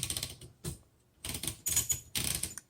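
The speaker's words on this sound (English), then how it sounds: "can you hear the click?" A 1935 Royal Model O typewriter clicks and clatters in several close, sharp mechanical bursts with brief gaps as the platen release is worked.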